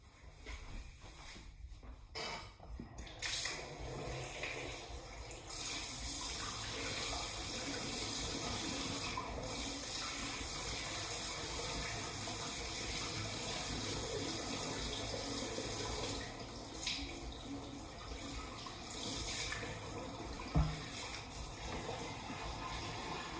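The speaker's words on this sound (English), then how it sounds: "fill to the internal black line with water from the hot tap" Hot water from a tap runs steadily into a Pinter home-brewing keg for a Bigmouth Remixed IPA, a soft, continuous gush that starts after a brief pause and stays fairly quiet throughout.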